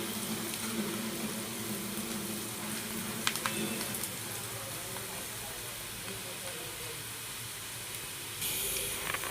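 Onions frying in a pan with turmeric, a steady hissing sizzle close by that fills the whole stretch, with a couple of faint clinks partway through.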